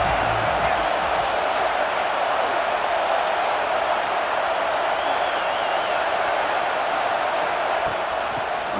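A stadium crowd roars continuously in the EA Sports College Football 26 video game, a dense, loud wash of cheering with no break throughout.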